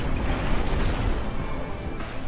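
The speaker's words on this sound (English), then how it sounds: "A couple of explosions there, because there are some explosive barrels and things inside the terrain." Explosive barrels hidden in the terrain blow up in the video game Phantom Brigade, giving a continuous, loud, rumbling blast noise with crackling debris throughout and no speech.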